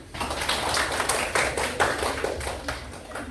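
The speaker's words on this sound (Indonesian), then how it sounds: "terima kasih kelompok 1, tepuk tangan" Students in a pharmacy class clapping hands for a group after its presentation, a short, even patter of many hands close by.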